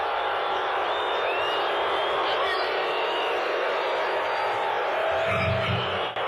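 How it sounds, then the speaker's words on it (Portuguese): A massive stadium crowd of about 94,000 people booing a performer at a live concert gives a dense, continuous roar of jeers and shouts, loud and unbroken, with a few distinct whoops rising above the mass. "O que você está ouvindo é um estádio com 94 mil pessoas vaiando um homem de cueca tipo sunga"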